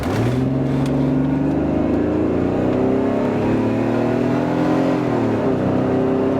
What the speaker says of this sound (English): Let's see what the acceleration is like.